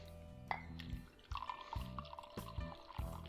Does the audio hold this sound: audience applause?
no